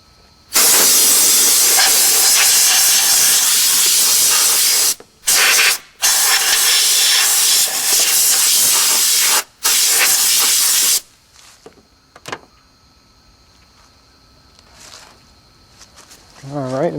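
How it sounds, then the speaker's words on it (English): Compressed air blasts out a 1995 Ford Crown Victoria air filter box in loud, close hissing bursts for about ten seconds with short gaps, then stops, leaving quiet clatter and faint noises. "you just blow it out with compressed air. And I'll do that next"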